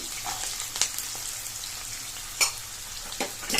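One medium-sized onion fries in hot oil, giving a steady soft sizzle and crackle with a few louder spits and stirring clinks, close and without talk.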